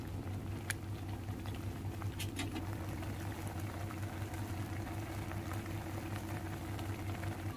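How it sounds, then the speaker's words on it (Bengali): Ash gourd juice heated in a pan until it boils, as the base for ash gourd halwa: a continuous bubbling simmer with a low steady hum and occasional faint pops. "ফুটে গেছে রস, দিয়ে দিচ্ছি এর মধ্যে কুড়িয়ে রাখা চাল কুমড়ো"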